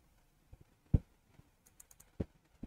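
Several soft, sharp computer mouse clicks sound at irregular intervals in a quiet room, a few close together and one slightly louder, with no talking.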